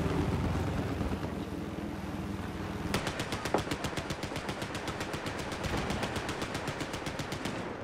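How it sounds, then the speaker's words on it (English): Mounted turret machine gun firing in Battlefield 4, heard as a long rapid burst of evenly spaced loud shots over a dense roaring background, close and continuous with no talk. "I'm getting on the mounted turret."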